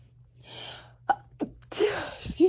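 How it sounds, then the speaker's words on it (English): A single sneeze bursts out, preceded by a short intake of breath and followed by a brief gasp and a few breathy sounds, close and fairly loud in a quiet indoor room. "I gotta sneeze."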